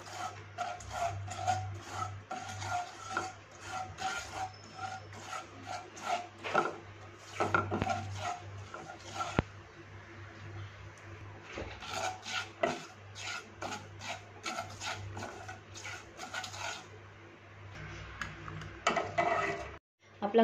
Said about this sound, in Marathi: आपण अगोदर खसखस चांगलं भाजून घेऊ। मीडियम गॅसमध्ये चांगलं भाजून घेऊया।